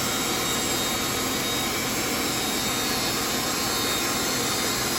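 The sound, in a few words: sawmill cutting logs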